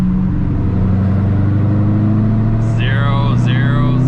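Procharged C5 Corvette Z06 engine droning steadily at cruise in fifth gear, a loud low hum with a whining layer, as someone speaks over it toward the end.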